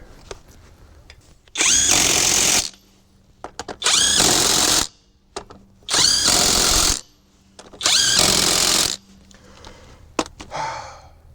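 An Alloyman 20v 1/2-inch cordless impact wrench hammers sockets back on in four loud, sustained bursts of about a second each, separated by quiet pauses with small handling clicks.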